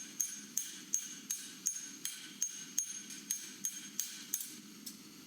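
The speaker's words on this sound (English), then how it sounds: "I use the cross peen of the hammer to put in horizontal marks" Cross peen hammer striking hot steel while forging a bottle opener, a steady series of about fourteen sharp ringing metallic blows roughly every third of a second, close and clear with no talk.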